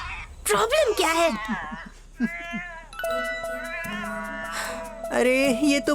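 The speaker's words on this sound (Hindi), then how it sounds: "अरे ये तो बस एक बिल्ली है।" A cat meows repeatedly in a rising, wailing caterwaul, close and loud, with long drawn-out cries, heard in a dubbed horror film scene with a faint steady tone and no talk over it.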